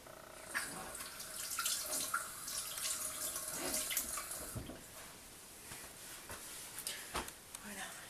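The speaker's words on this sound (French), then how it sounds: "Je me lave les mains." Hands are washed under a running tap, with a close, uneven splashing of water that rises and falls as the hands move through the stream.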